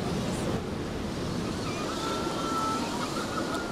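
Wind and waves at the sea on a windy day, a steady broadband roar of surf and gusts buffeting the microphone throughout.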